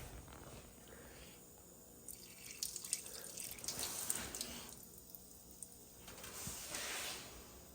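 Water poured over the air ride airbag of a DIY crew cab vehicle, faint close trickling and splashing in two short bursts separated by quiet, with a steady background hum.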